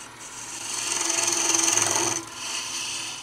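A lathe tool cuts a taper into a turned wooden kitchen canister, making a steady, close rasping hiss for about two seconds that then drops to a lighter, quieter scrape.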